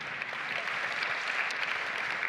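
Steady applause from a conference audience for two panelists, a dense, even patter of many hands clapping at moderate volume throughout, with no one speaking.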